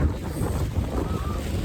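Strong wind buffets the microphone on a fog-covered mountain summit at Ijen during a cold, rainy pre-dawn climb, a steady low roar without a break.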